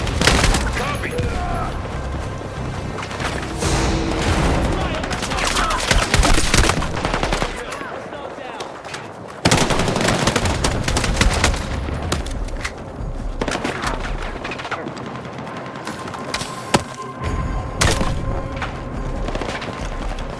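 Sustained gunfire from the Battlefield 6 campaign during a sniper mission: dense bursts of automatic fire and shots with booms, loud and continuous across the whole stretch, with voices calling out over the combat.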